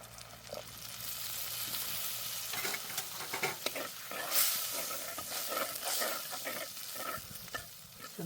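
Masala of turmeric, coriander-cumin powder, kitchen king masala and red chilli powder sizzles and hisses in a pan as half a glass of water goes in, with steady stirring scrapes throughout, close and fairly loud.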